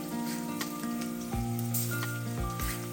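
Fenugreek and cumin seeds sizzle in hot oil for a Sri Lankan egg curry, a steady, fairly quiet frying hiss with a few sharp clinks and stirring bumps.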